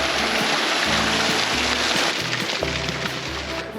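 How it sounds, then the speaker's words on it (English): Steady, dense rush of a waterfall at a hiking-trail crossing in Glacier National Park, a close, loud broadband roar of falling water that holds even and unbroken throughout. "Waterfall crossing."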